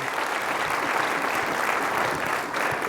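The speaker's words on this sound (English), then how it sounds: "let's have a round of applause for our electrophysiologist" An audience applauds an electrophysiologist at a DIY neuroscience demonstration, the clapping dense, steady and sustained at moderate loudness throughout, with no voices breaking through.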